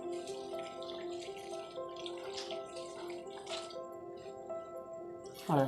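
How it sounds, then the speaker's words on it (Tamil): Water streams steadily into a cooking pot of eggplant kadayal, a soft continuous pour with a faint ringing tone, ending in a brief louder clatter. "இப்போ அதுக்குண்டான தண்ணியை ஊற்றிக்கலாம்"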